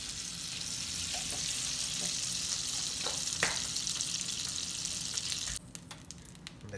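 Butter and a little cooking oil sizzling in a hot pan before grilling shrimp, a steady bright crackling hiss that runs throughout, with a few faint clicks and a brief clattering change near the end.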